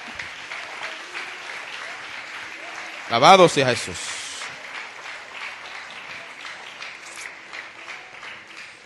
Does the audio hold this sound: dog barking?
no